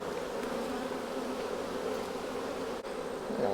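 Honey bees swarm around open hive frames during a split, a dense, steady buzzing drone close by that fills the whole stretch without pause.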